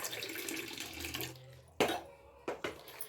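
Water is poured from a cup into a pan to make sugar syrup for laddus, a soft splashing pour followed by two short distinct splashes, faint and close in a quiet home kitchen.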